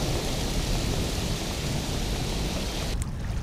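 Hail and heavy rain pour onto lake water in a storm, a dense, loud, steady hiss and patter with no let-up, briefly thinning near the end.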